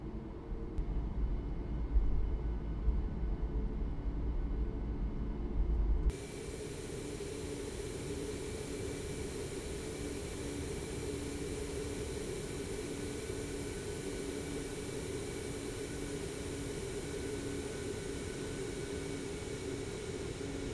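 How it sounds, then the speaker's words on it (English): A Boeing 737 Max 8 in a flight simulator taxis at Vancouver toward runway 26 left, its jet engines producing a steady, even rumble and whine with no talk. "we'll start a taxi now to runway 26 left for departure out of Vancouver"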